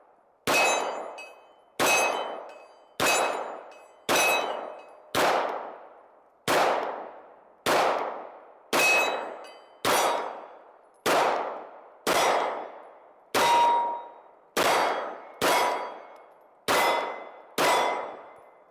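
Shots from a Springfield Armory XD Mod 3 pistol striking a steel target, about fifteen evenly spaced sharp cracks, each followed by a ringing metallic clang that decays quickly, loud and with no talking.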